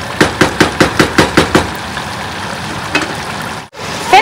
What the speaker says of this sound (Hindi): कीमा यहाँ पे जी अभी पक रहा है, मैंने कहा अच्छे से भून के